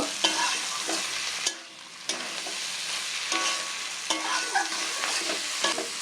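Flat bean seeds sizzle in a hot wok while a utensil stirs and scrapes, with clanks every second or so and a short lull early on.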